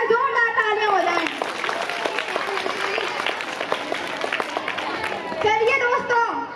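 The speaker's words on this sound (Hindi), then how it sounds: "उन्हीं के लिए एक बार जोरदार तालियां हो जाएं।" Lively applause from a school crowd at an Independence Day celebration honouring freedom fighters, sustained clapping mixed with cheering and children's chatter, swelling again near the end.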